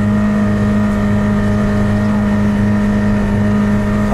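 An off-road pickup engine, with the mechanical differential locks working only at high revs, holds a loud, steady, sustained full-throttle drone with a strong hum and no talking.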